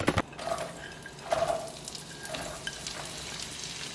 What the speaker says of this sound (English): Look at the butter do its butter job.